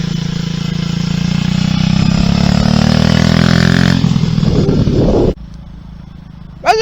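A motorcycle engine runs in a garage, a loud, steady drone whose whine climbs in pitch as it accelerates, then drops abruptly to a lower idle before a short final rev.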